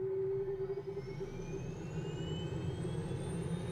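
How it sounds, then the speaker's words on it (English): A Boeing T-45 Goshawk jet engine spooling up during start in Microsoft Flight Simulator 2020, a steady loud whine rising gradually in pitch over a low rumbling roar, with no talking. "And switch the engine to start on position."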